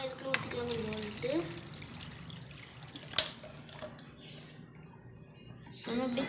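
Water is poured into a cup while preparing a betta fish setup, giving soft splashing and trickling with a few sharper drips, mostly under a talking voice.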